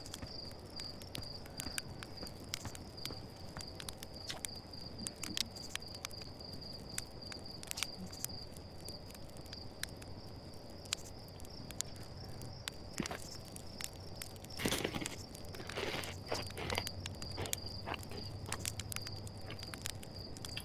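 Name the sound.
crickets chirping in the video game Outer Wilds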